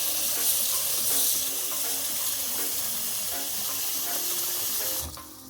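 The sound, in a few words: water running while soaking smoked herring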